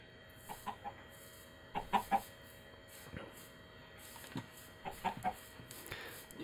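Several chickens in the Minecraft video game cluck in short scattered bursts, a few close together, over a quiet steady background hum.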